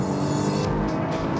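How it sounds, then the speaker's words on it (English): A Lotus Evora S in sport mode brakes toward a corner, its engine blipping through a rev-matched downshift; a loud, steady engine roar fills the whole stretch with brief throttle surges, and no voices are present. "as I start to brake, rev matching occurs, as you can hear"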